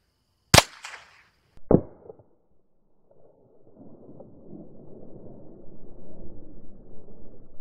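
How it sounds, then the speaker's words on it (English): Two sharp, close gunshots from a Marlin 25N rifle firing .22 long rifle rounds at cheap body armor, a second apart, followed by a low rumbling murmur of background noise. "22 long rifle out of a Marlin 25N."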